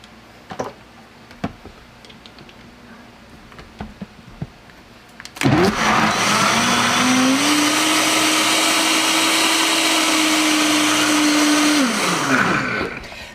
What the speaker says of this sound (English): This is a powerful unit I have here. This is a Vitamix.